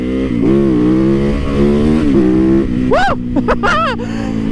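A Supermoto motorcycle engine idles loudly up close, then blips its throttle in several quick rising and falling revs.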